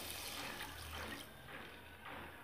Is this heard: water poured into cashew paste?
yes